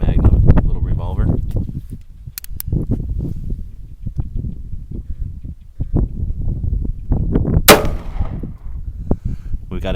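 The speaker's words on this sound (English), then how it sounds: "we're going to shoot this 22 Magnum little revolver" Sharp shots from a small .22 Magnum revolver crack outdoors with metallic clangs, while someone talks at length between the reports.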